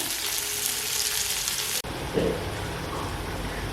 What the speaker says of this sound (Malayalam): ബാക്കിയുള്ള വെളിച്ചെണ്ണയിൽ ഉള്ളി മൂപ്പിക്കുകയാണ്.